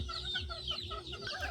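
Free-range native chickens on a small Philippine farm cluck and chirp softly in quick, overlapping calls, fairly faint and close by with no talking.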